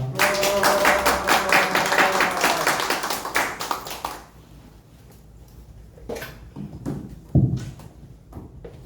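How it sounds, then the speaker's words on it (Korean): An audience at a lecture claps loudly and steadily for about four seconds, then the applause thins into a few scattered, isolated claps. "여러분의 힘찬 박수 부탁드리겠습니다"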